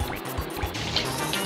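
Water gurgling and splashing in short bursts as the water nozzle is refilled in Super Mario Sunshine, brief liquid filling sounds close up.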